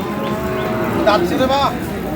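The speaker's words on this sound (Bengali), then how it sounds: "কুরবানির উপযোগী ষাঁড় গরুগুলো বেচা কেনা হচ্ছে" Bulls for Qurbani sale moo loudly and close at Aftabganj cattle market in Dinajpur, two drawn-out calls over a background murmur of the crowd.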